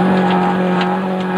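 Ford rally car at the 2006 Cyprus Rally, its engine droning loudly and steadily with strong harmonic tones and slight revving swells throughout a brief burst.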